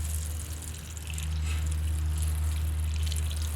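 Water poured steadily onto soil around a newly planted Momotaro tomato in a garden container, a continuous close trickle and splash over a low steady hum, with no talking.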